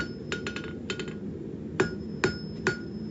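A hammer forges a taper on hot steel for a fire poker, ringing in sharp, close metallic blows, first lighter clustered taps, then four evenly spaced heavier strikes, with no speech.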